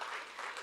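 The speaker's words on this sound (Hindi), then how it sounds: "एक बार माइक वाले के लिए तालियां बजा दीजिए।" A brief burst of steady audience clapping at a Hindi hasya kavi sammelan, a comic poetry gathering, as the crowd applauds the sound technician.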